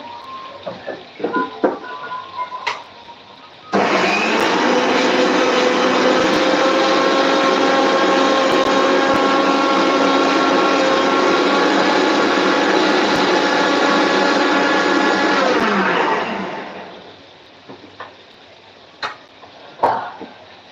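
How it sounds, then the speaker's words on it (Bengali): A kitchen mixer grinder starts abruptly and runs for about twelve seconds with a loud, steady motor whine and whirring blades, then winds down, with faint household sounds before and after. "মিক্সার ঘুরে চলেছি দেখো আওয়াজ শোনো তোমরা"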